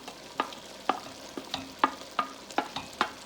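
Green onions stirred into a frying pan of goat and lamb meat with garden squash and tomatoes, a spatula scraping in about nine distinct strokes over a soft background sizzle, close and fairly quiet with no talking.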